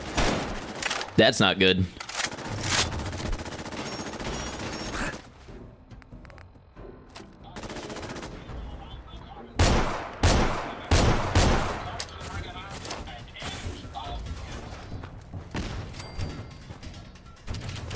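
Gunfire in Fallout 4 while shooting at tires, loud clusters of sharp shots and a burst early on, then a lull and a later run of separate close shots, with someone talking over parts of it.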